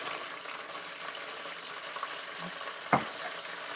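Lumpia frying in a pan give a steady, moderate sizzle with a soft tap of a utensil near the end, no talking.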